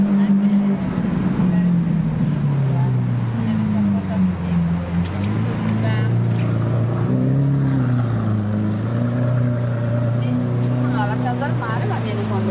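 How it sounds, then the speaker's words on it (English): A Lamborghini Aventador with an aftermarket sports exhaust drones loudly and steadily nearby, its engine note rising and falling slightly, while people talk over it. "That is Lamborghini sports exhaust."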